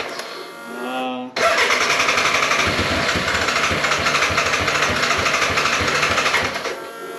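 A BMW K100 café racer engine cranks and catches, then runs roughly at a fast, uneven beat without settling into an idle, loud and close, with a brief whirring before it fires.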